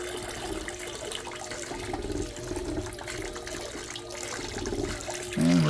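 Water sloshing and pouring steadily off a gold pan while panning down to the heavy concentrate, a continuous wet wash that swells louder in the last moment.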